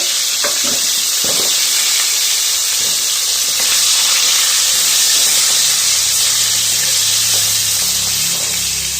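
Potatoes fry in hot oil seasoned with salt and turmeric, giving a loud, steady sizzle and hiss throughout with occasional crackles and stirring sounds close by.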